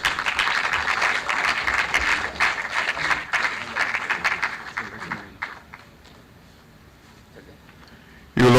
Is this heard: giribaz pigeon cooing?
no